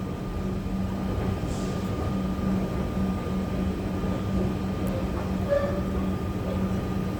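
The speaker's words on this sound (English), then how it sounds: "also there's another train that's coming, but it's not taking passengers" A train rumbling steadily into a station at night, a low continuous mechanical drone with a faint squeal near the end, heard alone with no talking.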